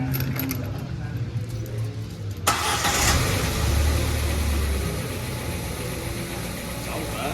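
A car engine starts and settles into a steady, smooth idle with no misfire, close by and fairly loud, with background chatter.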